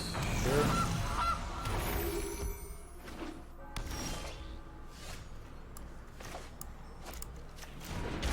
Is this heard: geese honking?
yes